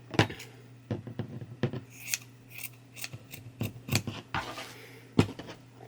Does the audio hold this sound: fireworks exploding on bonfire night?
no